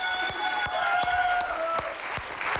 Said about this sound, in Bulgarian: Аплодисменти за Илян Михов и Иван!